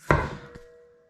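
A single sharp metallic smack lands on a Jeep ZJ front track bar, followed by a softer second knock and a lingering ringing tone as it dies away.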